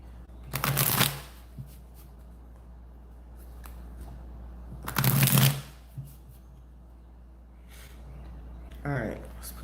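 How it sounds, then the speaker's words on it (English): Tarot cards are shuffled in quick riffling bursts, two loud close shuffles a few seconds apart and a shorter one near the end, with quiet pauses between. "Let me shuffle these real quick"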